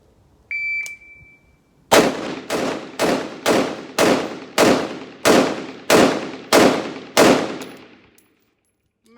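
A Palmetto State 10.5-inch pistol with a nitride barrel fires ten sharp rounds from the 15-yard line, spaced fairly evenly and loud, each shot ringing out, after a brief electronic timer beep.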